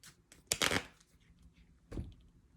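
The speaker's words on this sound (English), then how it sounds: "I'm going to give these a quick shuffle." A deck of tarot cards is given a quick shuffle close by, heard as two short riffling bursts, the first longer and louder, the second briefer, with quiet pauses around them.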